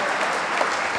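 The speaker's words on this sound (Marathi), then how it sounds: "आपण सगळ्यांनी टाळ्या वाजवून जोरात टाळ्या वाजवायचं आहे." Audience clapping loudly and steadily at a community gathering, a dense continuous patter of many hands filling the short stretch without a break.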